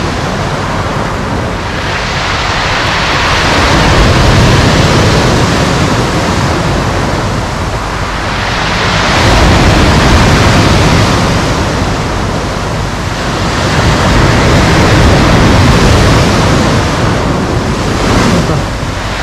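Loud, continuous roar of sea waves surging and crashing in slow swells during a storm, with heavy wind noise buffeting the microphone throughout.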